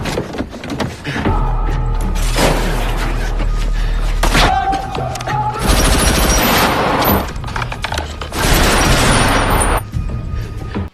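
Gunfire in an action film shootout: loud, dense volleys of automatic shots and booms arrive in repeated bursts, mixed with crashes, impacts and other scene noise.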